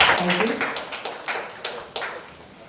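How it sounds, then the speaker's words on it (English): Conference audience at a construction equipment event giving a short round of applause to welcome dignitaries, fading from fuller clapping into a few separate claps as it dies down, a voice briefly heard at the start. "Can we please welcome our dignitaries with a round of applause?"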